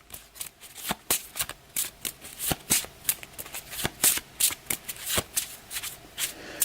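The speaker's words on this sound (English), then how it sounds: "I'll give my event cards a quick shuffle" Close, crisp riffling of a deck of event cards for a board game, a rapid run of sharp card snaps in quick bursts with short pauses, no voices.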